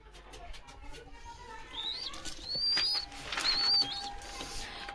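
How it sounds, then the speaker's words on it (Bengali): Pigeons of a breed kept in a loft for selling young birds, making faint cooing and chirping calls with brief wing sounds, while high whistling bird calls rise clearly over background noise and someone talks nearby. "পায়রা, দেখে নেবেন।"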